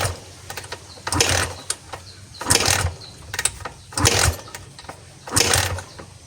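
Kawasaki Barako 175 motorcycle engine being cranked with the choke on but failing to catch, four rhythmic bursts of starter whirring and sputter separated by short pauses, close and fairly loud, no talking.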